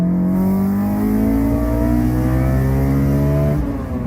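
A Honda S2000's naturally aspirated 2.0-liter 16-valve VTEC four-cylinder F20C engine revs steadily at high pitch, its tone climbing smoothly for several seconds before dropping off near the end, loud and close.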